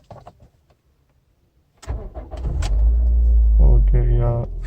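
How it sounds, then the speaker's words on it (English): Brief clicks and a short mechanical whir, then a 2008 Toyota Corolla Altis 1.8 E140 engine cranks and catches, settling into a loud, steady low rumble up close. "Okay, yeah, so it makes quite a lot of noise when starting up."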